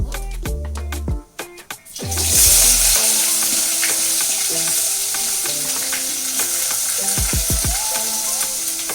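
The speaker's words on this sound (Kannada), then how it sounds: "ಈಗ ಈರುಳ್ಳಿ ಫ್ರೈ ಆಗಿದೆ" Onions fry in a brass pan, loud steady sizzling that surges after an initial metallic clatter, with repeated ringing scrapes and taps of a utensil stirring against the brass.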